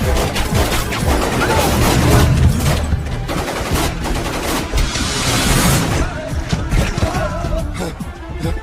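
Rapid, sustained gunfire crackles in dense bursts like automatic weapons, loud and chaotic, with shouting voices mixed in.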